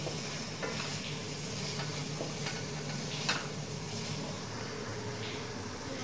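Fried okra sizzles steadily as it is stir-fried in a yogurt-based chicken curry, with occasional spoon scrapes and clinks against the pot. The sound is close and fairly quiet.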